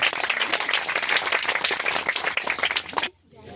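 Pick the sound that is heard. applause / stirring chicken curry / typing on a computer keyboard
applause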